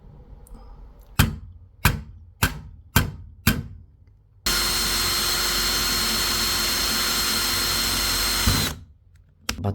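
Power drill boring holes in a 1/18 scale Greenlight Chevrolet police car model: five short whirring bursts in a steady rhythm, then one long, loud, continuous drilling run before it stops, close by.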